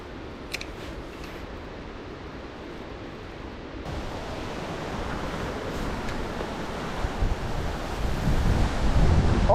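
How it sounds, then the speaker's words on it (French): Strong wind gusts buffet the microphone at a fishing spot beside open water, a broad roaring rush with waves behind it that builds louder toward the end, and nobody speaks. "Oh, le vent de fou."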